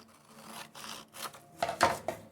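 Scissors snipping through paper while trimming a handmade envelope, a few short close rasping cuts with the last ones louder, heard alone.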